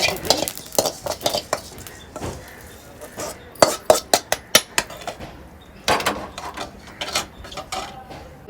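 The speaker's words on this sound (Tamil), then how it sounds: "பெருஞ்சீரகம் வறுபட்டுட்டு" Fennel seeds are dry-roasted in a metal pan while a spoon stirs them, making rhythmic clinks and scrapes against the pan in quick bursts, loud and close, over a faint crackle.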